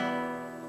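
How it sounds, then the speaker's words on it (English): A single light thumb upstroke across nylon guitar strings on the and of 2 in a Latin ballad strum, a soft, close chord ringing out briefly and fading, alone. "It's just an upbeat on 2, or the and of 2. And so you want it to be kind of light"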